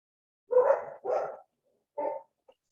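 A dog at a barn-raising gives two close, loud barks, then a third after a pause, followed by a tiny faint yip, against silence.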